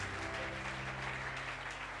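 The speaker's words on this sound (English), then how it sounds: "Clap your hands for Jesus." A church conference congregation claps hands together in dense, steady applause that fills the space, with sustained musical tones running underneath.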